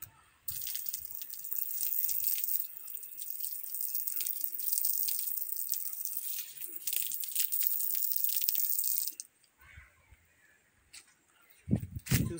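Water running from a tap as feet are washed before entering a temple, a steady splashing flow that stops near the end, followed by faint knocks.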